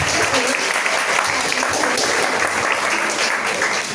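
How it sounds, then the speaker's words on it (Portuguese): Sustained, dense clapping from a poetry reading audience in a library fills the whole stretch, steady and fairly loud with no clear break. "as palmas para a Drica Shinomara"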